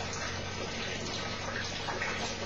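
Water discharging from a tank in a physics experiment, a steady broadband rush and splash that holds constant and fairly close throughout, with no talk.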